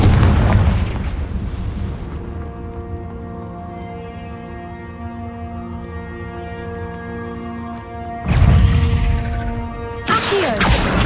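Booming blasts of the Confringo spell in Hogwarts Legacy, one heavy burst at the start, then a long ringing tonal decay, followed by two more loud explosive bursts near the end.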